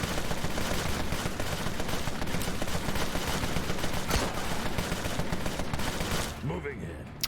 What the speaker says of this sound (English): he's got a shotgun blast, that'll do as well